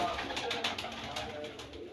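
Low, soft almond-coloured pigeon coos repeating in a rolling rhythm, close by at a pigeon loft, with faint background murmur.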